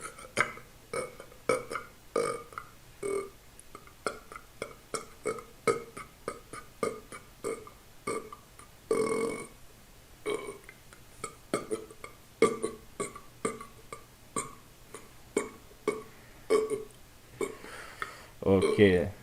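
A burping contest entry gives a long string of close, guttural burps in uneven bursts, with voices mixed in.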